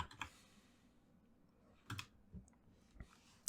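Computer keyboard typing and mouse clicks while a folder is renamed in a Unity pixel art game setup, with a few sharp, close clicks and key taps spaced apart over quiet room tone.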